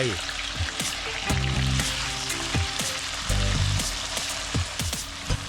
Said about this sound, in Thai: พอน้ำมันร้อนก็ใส่เต้าหู้แข็งลงไป